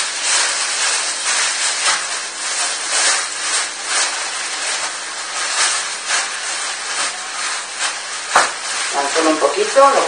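Pieces of veal ossobuco sear in a hot electric GM cooking pot, a steady loud sizzle and hiss running throughout, with a few sharp crackles and some stirring or handling near the end.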